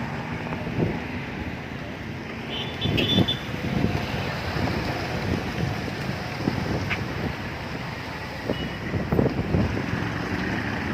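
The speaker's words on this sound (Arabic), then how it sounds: "هواء شديد جدا، الرياح شديدة جدا" Strong gusting wind buffets the microphone on the Nile corniche at Faraskur, Damietta, during heavy rain, a steady rushing roar with louder gusts throughout and no talk.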